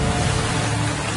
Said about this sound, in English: Mesmerized by the golf ball-sized hail that often precedes a tornado